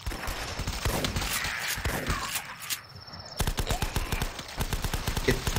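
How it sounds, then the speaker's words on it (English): Rapid shotgun blasts in The Last Stand game fire in quick, close, loud bursts, with a brief lull midway before the shooting resumes in a dense rhythmic run. "Shotgun time."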